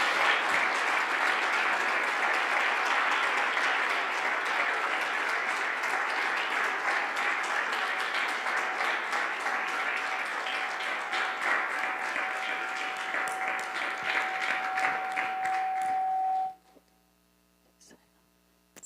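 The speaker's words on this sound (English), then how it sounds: "Another round of applause" Sustained applause from an audience at a Saturday morning bhajan program after a talk, a steady dense wash of clapping lasting about sixteen seconds before cutting off abruptly to near silence with a faint hum.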